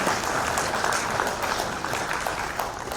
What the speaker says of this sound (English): Clap for President.